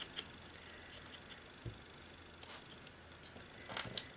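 Scissors trim paper vintage tickets in a series of quiet, close, crisp snips at an uneven pace, with no talking.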